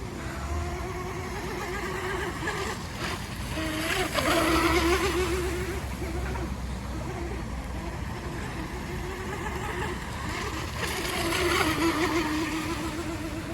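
Small H&M Micro Shovelnose Hydro radio-controlled racing boat running across water, its high-pitched electric or nitro motor whining steadily throughout with two louder surges as it passes nearer, under continuous spray and water noise.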